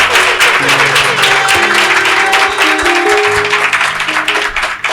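An audience at a live stage show claps loudly and continuously in sustained applause, with music tones playing underneath.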